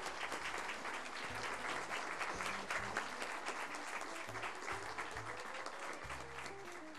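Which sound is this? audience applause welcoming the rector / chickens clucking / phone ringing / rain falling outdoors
audience applause welcoming the rector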